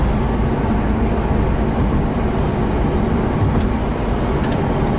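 A car with a swapped naturally aspirated EG33 engine drives with no hood, giving off a loud, steady roar of engine and road noise that continues unbroken with no voices.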